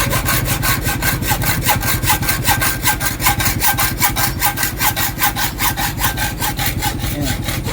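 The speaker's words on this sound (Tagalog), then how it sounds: "So dito gamit natin lagarin baka lang," Rapid, steady strokes of a hand hacksaw cut through a part from a Yamaha Sniper 155 motorcycle, each rasping back-and-forth pass loud and close, with no talking over it.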